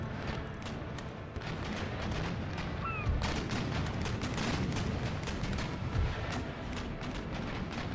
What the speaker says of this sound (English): You're going to have to just turn and keep firing round shots.